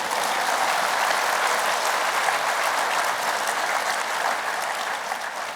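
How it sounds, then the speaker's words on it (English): A convention audience applauds steadily, a dense wash of clapping that stays loud and even throughout. "Let's clap hands for the baby boomers."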